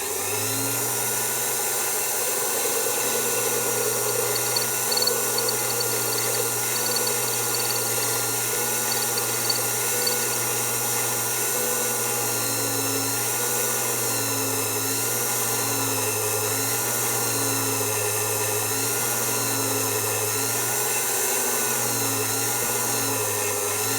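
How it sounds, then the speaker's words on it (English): An Emco Unimat 3 mill drills a hole through a workpiece with a steady, close motor whine and hum that barely changes over the whole stretch, with no talk. "let's drill this through and see what happens."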